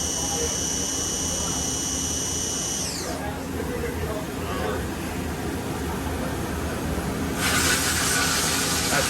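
Kitamura Mycenter vertical machining center spindle spinning up to high speed, a steady hissing whine with high tones that shift and drop partway through, then a broadband rush near the end, under a running mechanical hum.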